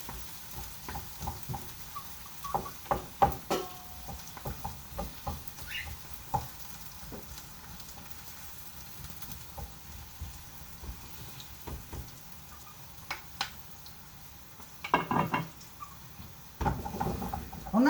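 Onions frying in a pan for a cooking workshop dish, with soft continuous sizzling broken by scattered stirring scrapes and clinks, louder bursts of utensil contact near the end.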